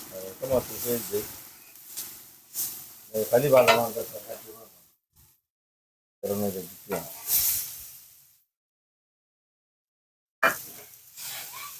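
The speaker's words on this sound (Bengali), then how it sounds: "এবার লাস্টে একদম চিংড়ি মাছগুলো ভাজি করা হচ্ছে" Small freshwater shrimp from a wetland sizzle and hiss in a hot pan with tomato and onion, heard in bursts, with someone talking loudly over much of it and short silent gaps.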